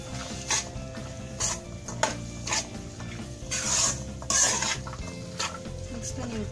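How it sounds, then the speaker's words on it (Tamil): Field beans are stirred into masala in a pan, giving repeated scraping and clattering strokes of a utensil against the metal at close range, with no speech. "மொச்சையை போட்டு நல்லா மிக்ஸ் பண்ணி விட்டுக்கோங்க."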